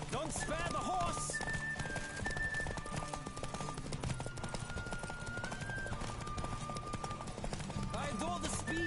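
A horse gallops with rhythmic hoofbeats in The Witcher video game, continuous and close, mixed with busy game effects and bursts of sharper noise.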